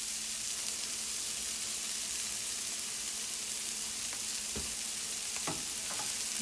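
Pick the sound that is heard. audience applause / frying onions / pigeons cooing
frying onions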